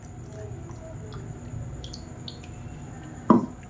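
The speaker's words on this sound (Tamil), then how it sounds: "இப்போ மிக்ஸி அலசிட்டு தண்ணி சேர்த்துக்கலாம்." Quiet kitchen background, then a short, loud splash as water is poured into a mixer jar while making tomato chutney near the end.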